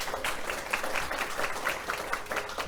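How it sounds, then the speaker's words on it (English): An audience claps steadily at an online business talk on Covid, Brexit, tax and posted workers, a continuous mid-level round of applause with no voices over it. "please encourage them by giving them a huge round of applause"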